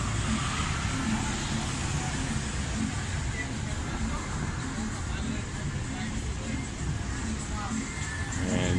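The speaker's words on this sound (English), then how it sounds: "And you must watch out for the traffic." Busy street traffic on Soi Lengkee near LK Metro in Pattaya, Thailand, with a steady wash of passing vehicles and engines close by, plus crowd chatter and voices in the background throughout.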